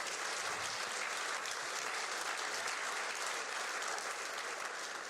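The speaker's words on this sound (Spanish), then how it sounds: "Le damos un aplauso a la palabra del Señor." A church congregation gives steady applause after a Spanish-language scripture reading, an even, continuous wash of many hands clapping that holds at one level throughout.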